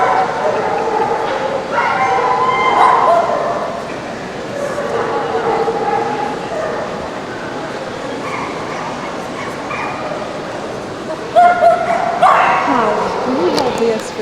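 A Great Pyrenees at a veterinary exam on the floor barks, yips and whimpers in short bursts, with people talking in a busy room throughout.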